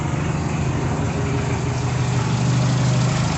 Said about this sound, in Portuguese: Vou bater na chave, ele tem que bater e pegar sem dificuldade, ó.